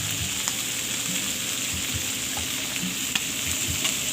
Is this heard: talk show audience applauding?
no